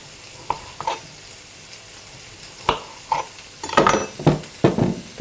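A knife cuts tomatoes into rings on a board, giving a series of sharp, close knocks at an irregular pace that come quicker and louder toward the end, with no talking.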